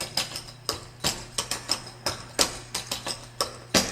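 Tap dance shoes work through double steps and a rock step with a drag, giving a quick pattern of crisp metallic taps on a hard floor, near and clear, with no voices.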